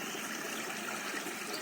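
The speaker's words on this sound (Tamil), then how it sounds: "இவ்வளோ தண்ணி போரில் போகுதுன்னு சொன்னால் யாராவது நம்புவாங்களா பாரு?" Borewell water gushes out onto farmland in a brief, steady, even broadband rush, fairly faint and with no voices.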